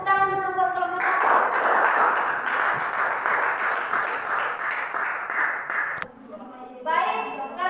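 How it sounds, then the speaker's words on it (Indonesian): Classroom applause for a student group after their presentation, a dense burst of clapping lasting several seconds and cutting off abruptly, with voices talking before and after. "Tepuk tangan dulu buat kelompok 1."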